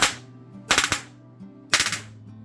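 RDX B.O.S.S. gunfire sound unit firing electronically triggered bursts: three rapid rattling machine-gun volleys, loud and close, separated by short gaps of low electrical hum.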